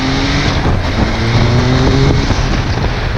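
An MV Agusta 800 cc motorcycle engine running hard, loud and close, with a steady roar and shifting pitch throughout and some wind buffeting.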